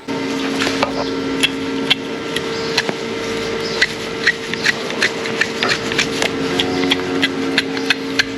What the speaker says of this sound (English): let's turn the music down so you can hear all the hoof sounds